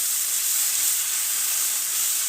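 Steady, close sizzling hiss of spinach frying in a pan as it wilts for an Asian-style dish, continuous and even throughout, with no talking.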